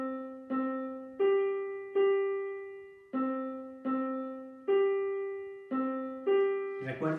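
A piano sounds a perfect fifth as alternating lower and higher notes in a steady pattern of about a dozen close, clear strikes, each decaying before the next.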